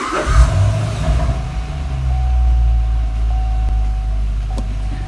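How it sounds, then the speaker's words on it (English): A vehicle engine turns over and catches near the start, then settles into a steady, loud idle rumble with a faint constant whine running through it. "It's connected now, and we can start our vehicle."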